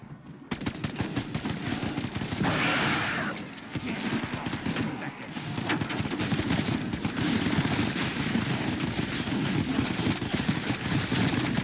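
Rapid pistol fire in a solo round of a zombie video game, two pistols shooting in dense continuous volleys, loud and steady throughout.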